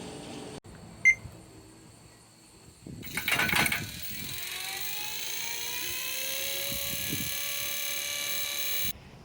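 A homemade 2x72 belt sander switches on briefly after a click and a rattle, its motor whining up in rising tones to a steady hum before cutting off sharply.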